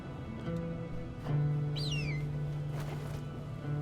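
An eagle in the video game The Pathless gives a short descending screech over a steady humming game soundtrack.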